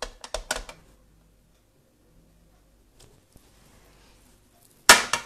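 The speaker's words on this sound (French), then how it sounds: "on va tamponner un petit peu aussi pour embellir" A rubber stamp is tapped onto a scrapbook album page in a rapid cluster of sharp taps at the start, then a couple of soft knocks and a loud final tap after a quiet pause.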